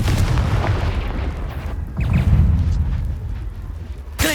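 A Confringo fire curse detonates in Hogwarts Legacy, giving a loud booming burst with rumbling blasts and a sharp crack near the end, set against ongoing game combat noise.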